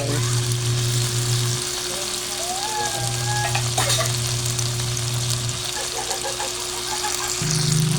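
Corned beef and potatoes sizzle steadily in a hot pan through a pan-fried potato and corned beef sauté, with a constant frying hiss and occasional stirring scrapes, close and fairly loud with no talking.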